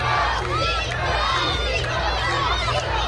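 Concert crowd at a summer festival show in Baruchowo, shouting and chanting continuously and loudly, with a steady thumping beat under the dense mass of voices.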